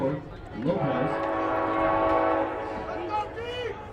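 A passing train's horn sounds near a high school junior varsity football game, one long sustained blast with a slight pitch bend, heard fairly loud under commentators' voices and crowd murmur.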